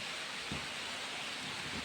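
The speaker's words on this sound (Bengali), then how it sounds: "এবার দেখো পুরো চারিদিকটা মেঘ, বৃষ্টি শুরু হয়ে গেছে।" Rain falling outdoors in the hills of North Bengal during the monsoon, a faint, even hiss of steady rainfall with a couple of soft low knocks, no voices.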